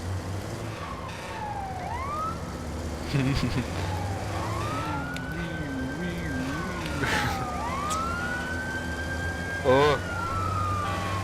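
Wailing fire engine sirens in the video game Watch Dogs, rising and falling sweeps and yelping warbles over a steady engine drone, with a brief voice and some thumps.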